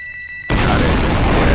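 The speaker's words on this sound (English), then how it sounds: "Alright, explosions, explosions, explosions." A sudden loud blast in the Roblox Jailbreak game bursts in after a quiet moment and rolls on as a broad, sustained roar of noise.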